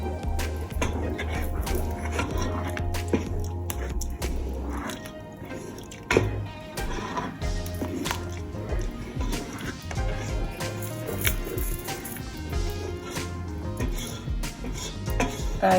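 Jollof rice sauce being stirred in a pot, with close clinks and taps of a utensil against the pot over a low, bubbling background.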